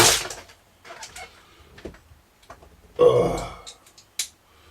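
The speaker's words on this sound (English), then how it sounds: "I've just farted." A man farts indoors while servicing a CB radio power supply. Short low raspy bursts are heard amid quiet handling clatter, with the loudest burst in the middle.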